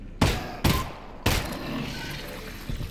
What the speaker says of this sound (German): Ach, da waren es 3 Schuss.